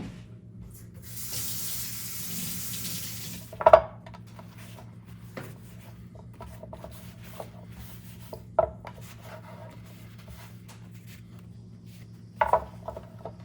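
Celery stalks are rinsed under a running kitchen tap, with a couple of seconds of steady splashing water near the start, followed by quiet handling and a few sharp knocks on the counter, and no talking.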